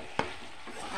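Quick stir of pui shak with salted hilsa head in a sizzling pot, a single sharp scrape followed by a soft frying hiss, close and brief.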